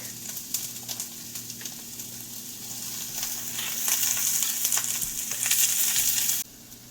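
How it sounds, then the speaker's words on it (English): Chopped onions and garlic sizzle steadily in hot oil for a lima bean curry, a close, continuous frying hiss that swells louder midway and cuts off abruptly near the end. "now that the oil is heated up, I have half a cup of chopped onions. And a tablespoon of garlic."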